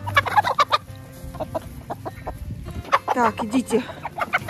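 Several laying hens cluck and squawk in short, busy bursts close by as water is brought to them, while a person briefly speaks in Russian over the flock.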